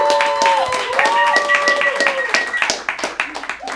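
A comedy club audience at a roast battle claps and cheers loudly, with whoops and shouts over steady applause that thins out toward the end.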